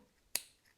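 A small wire cutter snips through macramé thread in a single crisp, close click, alone in a quiet room.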